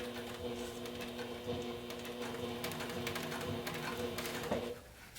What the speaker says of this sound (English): I'm pressing down while I'm sewing just to make sure everything's flat when it goes under my needle